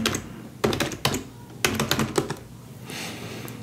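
Keys clatter in short bursts as a new user's password is typed and retyped on a computer keyboard while setting up a Raspberry Pi, with clusters of close, crisp taps separated by brief pauses.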